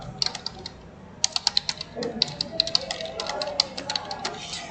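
Computer keyboard keys clatter in quick, irregular bursts of clicks while Python code is entered, close and crisp, with a voice speaking over the typing.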